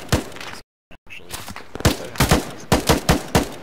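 Gunfire rattles in a military video game during a fire mission, loud close bursts of rapid shots after a brief silence, with short gaps between the volleys.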